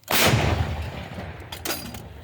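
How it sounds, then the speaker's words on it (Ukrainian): A single M119 howitzer artillery round fired, a sharp loud boom at the start followed by a long rolling decay and a faint second echo, heard outdoors near the gun. "Постріл."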